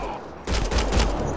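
Sudden burst of loud gunfire in the sci-fi shooter Mass Effect Andromeda, starting partway through after a quieter stretch of game ambience and continuing as a sustained volley.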